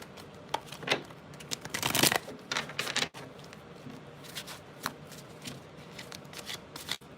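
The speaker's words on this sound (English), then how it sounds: "One more shuffle." Tarot cards being shuffled, with several quick riffling bursts and soft brushing handling sounds in between, close up and fairly quiet.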